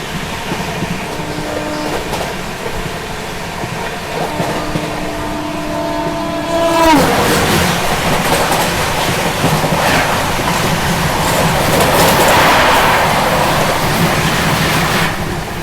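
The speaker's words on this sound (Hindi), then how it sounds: "क्या भाग रही है मरुधर एक्सप्रेस" The Marudhar Express, an Indian passenger train, runs at speed with a loud, continuous rumble and rushing wind, a sustained horn blast at the start, then a heavier roar as it passes another train.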